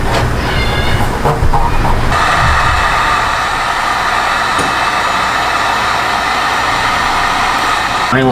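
A heat gun blows loudly and continuously while warming the adhesive behind a badge on a BMW 330i G20, a steady roaring hiss close by with brief rumbling handling noises at the start.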